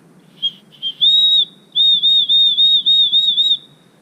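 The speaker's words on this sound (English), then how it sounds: "I have a whistle like this." A hiking safety whistle blown on a trail, sounding a few short shrill blasts and then a run of long, piercing, sustained toots, very loud and close against quiet outdoor background.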